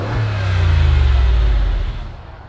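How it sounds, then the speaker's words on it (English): A car engine revs up with a deep, loud rumble through an upgraded louder aftermarket exhaust, holding high before easing back down near the end. "I had them put a louder exhaust on, so check this out."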